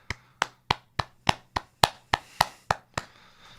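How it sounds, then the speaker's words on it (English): Eleven sharp, evenly spaced hand claps close to the mic, about three per second, each crisp with a short ring, then quiet. "So I'm just going to do a few audible claps on behalf of us."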